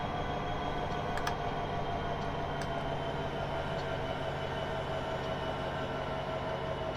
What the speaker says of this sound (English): I'm going to hit the brakes now